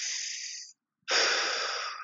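Heavy breathing during a hip airplane exercise hold in a fitness class, two long, loud, close-miked breaths with a brief silence between, each with a raspy, wheezy hiss.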